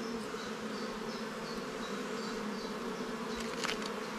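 Honey bees buzz around a hive from a newly made swarm, a steady, close, droning hum of many insects with a few louder passes of individual bees near the end.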